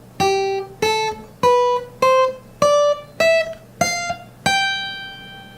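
Guitar playing a scale upward from G on natural notes only: eight separate plucked notes, each rising in pitch and ringing briefly, evenly spaced and clear with no voices, the last note left to sustain.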